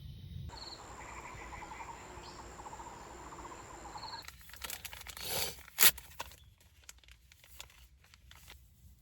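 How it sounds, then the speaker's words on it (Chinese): A frog calling at night at the Shanlin campsite in Yilan, Taiwan, with repeated croaks and insect chirps over a quiet background, followed by close rustling and crinkling. "小青蛙"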